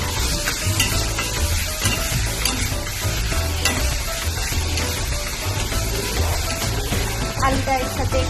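Diced raw potatoes sizzling loudly in hot oil with tomato masala for a fish curry, stirred with steady scraping and frying crackle throughout, close and continuous.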